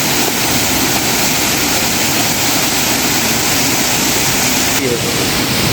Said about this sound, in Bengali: এটা হচ্ছে ঝর্ণা